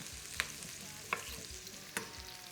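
Diced green pepper and meat fry steadily in a pan, a continuous close sizzle broken by three sharp clinks of a utensil against the pan.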